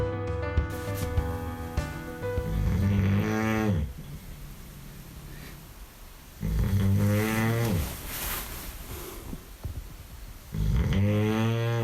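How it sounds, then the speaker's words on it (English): A man snores at night in a cabin, loud rasping snores coming in slow, regular breaths, each drawn-out inhale rattling and fading before the next begins. "Oh my gosh, I can't believe this snoring."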